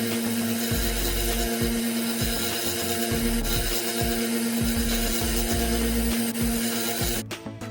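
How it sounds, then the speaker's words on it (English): Repeated grinding on the step of a car key cut by a locksmith, a steady loud abrasive whine with a constant tone and rhythmic pulses as the blade is worked back and forth, close up and alone. "We'll just grind back the step, here and here."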